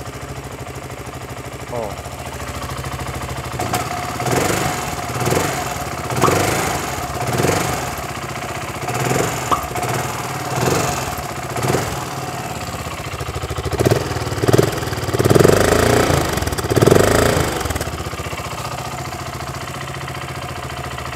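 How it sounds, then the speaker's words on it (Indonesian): A 2023 BSA Gold Star 650 motorcycle idles after starting with a steady, lumpy, pulsing rumble, the beat slightly uneven, close by; a voice briefly exclaims near the end. "kalau tadi saat dihidupin tuh kedengeran kayak ada suara-suara putaran kruk as atau suara-suara dari balancer"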